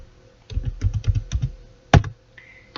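Keys on a computer keyboard are tapped in a short quick burst of about eight clicks to type a command in AutoCAD, then one louder key press follows after a pause, close and clear with no talking.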